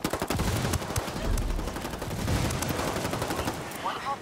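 Rapid gunfire from the video game Ghost War: dense bursts of automatic shots and scattered single cracks fill the whole stretch, loud and continuous, with faint voices mixed underneath.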